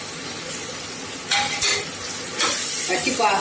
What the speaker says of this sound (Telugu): పచ్చి వాసన పోయేంత వరకు ఫ్రై చేసుకోవాలి